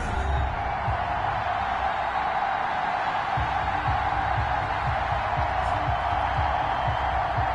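A stadium crowd at an NFL game against the Buffalo Bills in a PS4 football game gives a steady, distant roar and murmur with faint cheering.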